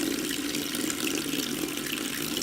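A makeup brush is rinsed under a running tap, a steady close hiss of flowing water with no break or voice.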